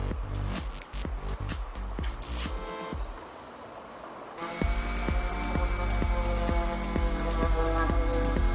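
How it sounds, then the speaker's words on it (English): A random orbital sander whirs steadily and loudly against the wood of a folding work table, its motor settling into a constant hum after a brief rougher stretch of tool noise. "quickly go over with the random orbital sander"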